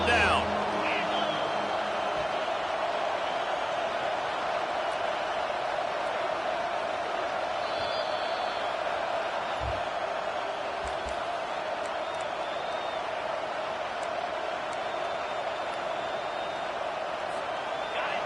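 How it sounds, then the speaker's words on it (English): A stadium crowd in the NCAA College Football 25 video game, with Syracuse in the matchup, keeps up a dense, steady roar throughout, loud and unbroken with no speech over it. "Decibels rising as the crowd gets behind this defense on 3rd down."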